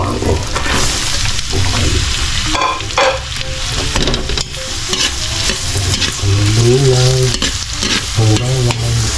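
Garlic frying in a pan gives a loud, steady sizzle with stirring scrapes throughout, while a person talks briefly over it.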